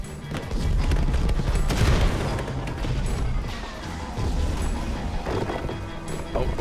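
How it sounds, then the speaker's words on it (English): Fireworks burst in a Minecraft Story Mode game scene, a dense run of loud booms and crackling pops with a steady rumbling wash beneath, busiest in the first two seconds and continuing after. "Fireworks! Good thinking, Lucas!"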